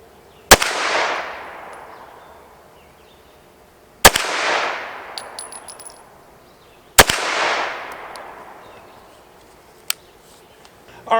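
Ruger PC Charger pistol caliber carbine firing three well-spaced single shots outdoors, each a sharp loud crack followed by a long rolling echo, with faint clicks between.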